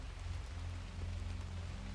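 Rain patters steadily and softly on a surface, a faint, even wash of drops with no voices.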